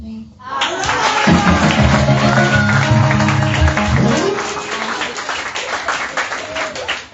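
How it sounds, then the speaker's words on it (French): A church congregation applauding at a children's thanksgiving service, dense sustained clapping from many hands nearby, with voices mixed underneath. "On applaudit pour Déborah."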